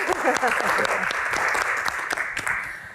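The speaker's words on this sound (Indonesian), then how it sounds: "Tepuk tangan lebih meriah lagi dong" Applause from an audience at a hajj Q&A event, steady dense clapping filling the whole stretch, fairly loud and close.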